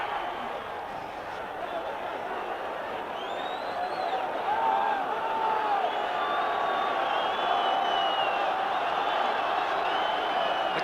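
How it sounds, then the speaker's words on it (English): A stadium crowd at the 1968 Los Pumas vs Wales rugby test in Argentina cheers. The roar is broad and sustained, with scattered whistles and shouts, and a commentator talks over it throughout. "The crowd really erupting here now"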